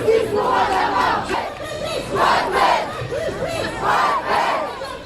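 A marching protest crowd in the streets of Persan and Beaumont-sur-Oise chants "Justice pour Adama" in loud, rhythmic unison, with the chant rising and repeating in waves of many voices.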